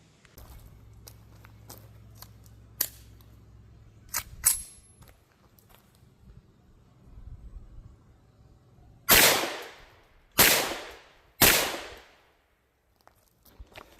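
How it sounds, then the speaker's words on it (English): A Bear Creek Arsenal BC-9 bufferless AR9 9mm pistol firing 115 grain FMJ rounds, with three loud, sharp gunshots spaced about a second apart after scattered clicks and handling noises, then silence. "I'm just shooting that Winchester White Box 115 grain FMJ"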